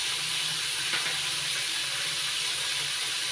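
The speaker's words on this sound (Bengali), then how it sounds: "চিচিঙ্গাগুলো হালকা করে ভেজে নিয়েছি, এবার তুলে নিচ্ছি।" Snake gourd pieces frying lightly in oil in a pan, a steady close hissing sizzle that stays even and continuous, with no voices.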